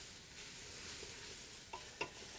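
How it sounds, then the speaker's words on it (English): Onions sizzle in a hot pan for French onion soup while a wooden spoon stirs them, a steady hiss with two brief scraping knocks near the end, close but fairly quiet, no voices. "The heat in the pan will get it going, but you need to keep those onions stirred."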